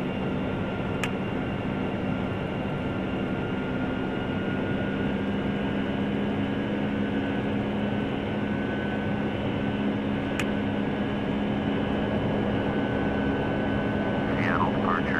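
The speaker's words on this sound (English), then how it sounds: "Alaska 506, cleared for takeoff, runway 16 left." Steady, continuous roar of a simulated Boeing 757-200 airliner's jet engines during the takeoff roll, a dense broadband rumble with faint tonal hum, unchanging in loudness throughout, with no voices.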